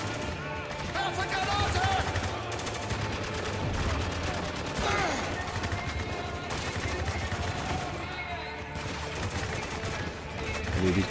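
Gunfire from the war shooter Spec Ops The Line rattles in bursts across a busy battle soundscape, with rapid volleys and scattered shots under someone speaking German.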